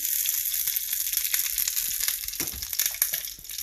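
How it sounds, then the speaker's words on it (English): Ghee heating in a pan for a tarka for dhal gives a steady, bright crackling sizzle with soft pops and spits throughout, close and fairly loud, with no talk over it. "So I'm going to add in 1 teaspoon of ghee to the pan."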